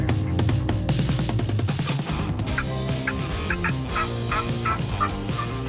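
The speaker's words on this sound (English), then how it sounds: "Look at those turkeys right there." Wild turkeys gobble repeatedly in Alabama turkey season, the rattling calls loud and fairly close at first, then continuing as smaller calls further back, with no talking.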